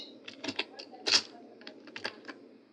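Text typed on a computer keyboard, a close, uneven run of light key clicks with short pauses, one louder cluster in the middle, over a faint low hum.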